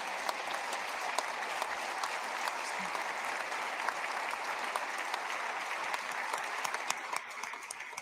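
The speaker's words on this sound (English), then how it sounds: "you got to clap for her" Steady applause from an audience in a state Capitol chamber for a senator, dense and even, with a few louder claps standing out.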